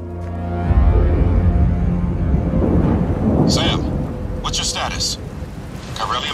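Rain and thunder in the Death Stranding video game: a deep rolling thunder peal swells over a steady hiss of rainfall, loud and close, with brief higher crackles near the end.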